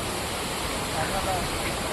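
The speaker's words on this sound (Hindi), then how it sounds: "झरना" A steady, continuous rush of falling water from a waterfall at Mainpat, India, broad and hissing, filling the whole clip with little change in level.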